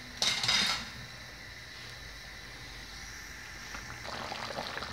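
A metal lid clanks down onto a cooking pot of potatoes, a bright brief rattle near the start, followed by a low steady background hum and a faint later clink.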